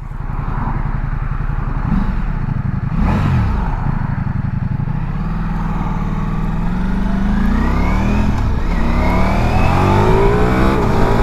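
Ducati Multistrada V4S motorcycle engine droning steadily while riding, rising and falling in pitch through gear changes and throttle, close and loud with wind noise throughout.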